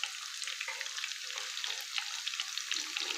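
Pinwheel bites fry in a little oil, giving a soft, even, bubbling hiss with tiny crackles, fairly quiet and close, and no voices.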